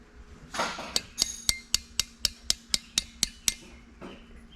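A light hammer taps on screws in a 1950 Chevy Deluxe, giving about ten crisp, evenly spaced metallic ticks with a faint scrape before and after, close and fairly quiet.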